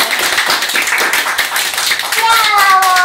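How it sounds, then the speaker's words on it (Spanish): Children and adults clap together after singing happy birthday at a child's party, a rapid patter of hand claps that rises into excited cheering voices near the end. "¡Y un aplauso!"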